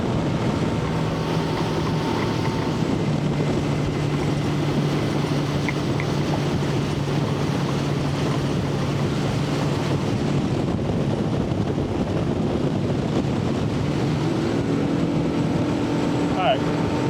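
A boat powered by a Mercury Pro XS 115 outboard slows and turns on open water, a steady engine drone mixed with heavy wind buffeting and water rush, continuous and close throughout.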